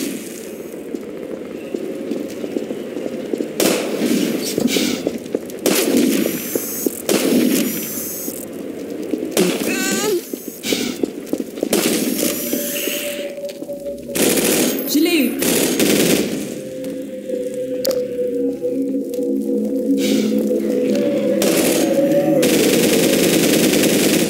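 Rapid bursts of sniper gunfire crack and rattle through a firefight in the video game Half-Life 2. Repeated loud volleys are broken by short pauses, over a constant noisy backdrop.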